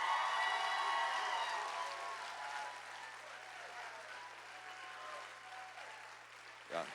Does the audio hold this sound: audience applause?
yes